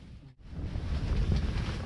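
Strong wind from a winter blizzard blows across a frozen lake, a steady loud rushing roar with heavy low buffeting against the microphone and a brief dip before it swells again.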